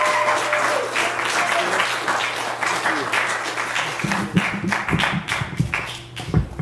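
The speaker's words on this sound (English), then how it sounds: "Give him a giant round of applause." An audience at a live podcast event gives a round of applause, dense continuous clapping that stays loud throughout, with some crowd noise mixed in and a few heavier thumps near the end.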